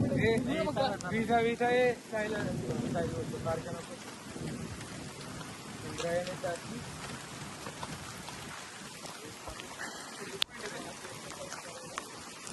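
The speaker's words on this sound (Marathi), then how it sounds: "पाऊस लय वाढलाय" Steady heavy monsoon rain hisses throughout in Pune, with voices talking over it early on and a sharp crack near the end that could be thunder.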